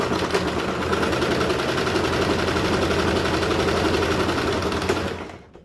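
A sewing machine runs a continuous straight stitch through fabric for a mask cover, a fast, even mechanical whirr and patter that runs steadily, then winds down and stops near the end.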